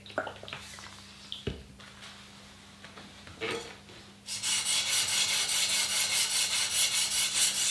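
An Arcos ham knife is drawn across a fine-grit sharpening stone. A few scattered scrapes and taps give way to steady, rhythmic rasping strokes that grow louder and continuous toward the end.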